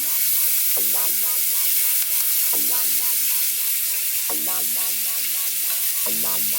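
Shrimp frying with vegetables in butter and grapeseed oil: a loud, steady sizzle runs throughout, with a repeating pattern of stirring and clattering in the pan on top.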